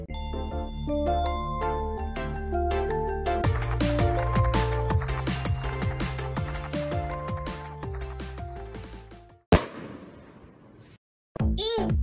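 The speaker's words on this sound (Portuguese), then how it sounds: "solta a vinheta!" A channel intro jingle: a bright, tonal melody with bell-like chiming notes that swells for about nine seconds, then breaks off into a sharp burst and a brief noisy whoosh before a short final hit.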